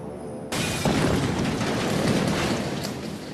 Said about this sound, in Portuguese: Nosso teste reproduziu fielmente a explosão.